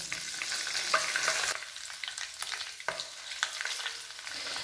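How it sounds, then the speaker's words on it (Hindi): Malai cream frying in a pan as ghee is made, with lemon juice added: a steady close sizzle with light scraping and a sharp crackle partway through, with no voices. "अब इसमें हम डालेंगे आधा नींबू का रस।"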